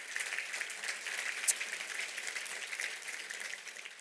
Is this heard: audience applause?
yes